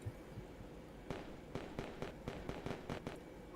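A fireworks show at the end of a virtual race at McCormick Field Speedway gives off a faint, distant run of sharp bursts, a few spaced pops that quicken into a rapid volley.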